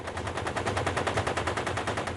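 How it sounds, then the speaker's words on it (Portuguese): Rapid automatic gunfire near the palace rattles out in a steady, evenly spaced stream of loud shots throughout, with no voices. "Alguns meses depois da posse de Papadoc, tiros são disparados próximo ao palácio"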